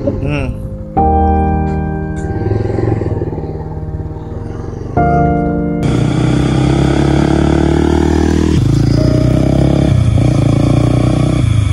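A faulty motorcycle engine idles and sputters, then revs up louder and rougher, running continuously at close range.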